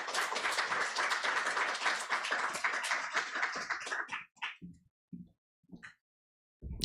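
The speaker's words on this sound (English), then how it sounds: "Round of applause for Danielle P." Audience applause at a Juneteenth poetry reading, a dense steady clapping for about four seconds that thins into a few scattered final claps and then silence.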